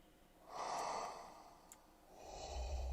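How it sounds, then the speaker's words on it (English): Darth Vader style breathing sound effect, a slow, raspy mechanical inhale and exhale, heard as two close, moderately loud breaths with a quiet gap between them. "You think our dog will sound cool if we use the Darth Vader breathing sound effect?"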